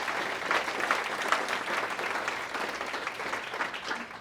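Audience applause at a meeting, a steady sustained clapping from many hands filling the room, moderately loud and continuous throughout with no speech over it.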